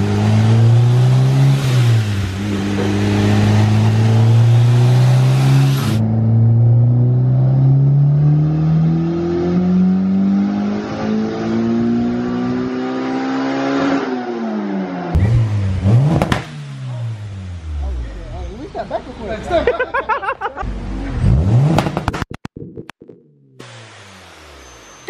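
A tuned car's engine revs hard on a dynamometer, rising in a long sustained pull that climbs steadily in pitch before cutting off, followed by several shorter, sharper blips of throttle near and loud.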